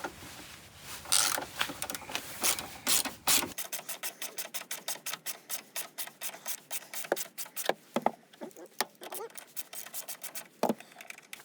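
Ratchet cranking rapidly to loosen 10 mm bolts on Ford Bronco tie downs, a long run of quick rhythmic clicks, close and fairly faint, with some rubbing at first.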